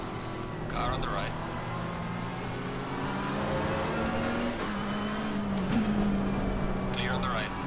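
In the Assetto Corsa Competizione racing game, a rival race car runs alongside, its engine note rising and shifting over a steady drone of engines and tyre noise, with brief whooshes as cars pass close by.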